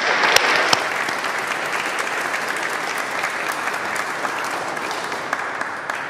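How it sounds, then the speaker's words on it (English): A congregation at a Melanesian Mission festival Eucharist in the UK claps steadily in a warm, sustained round of applause lasting several seconds, with a few sharper individual claps standing out near the start. "I think it'd be good to give them a round of applause for taking on that commitment."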